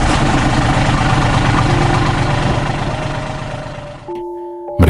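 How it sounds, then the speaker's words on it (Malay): A boat engine runs loud and steady with a low, throbbing drone, then abruptly cuts out near the end, leaving a brief high tone. "Akhirnya enjin bot hidup kembali."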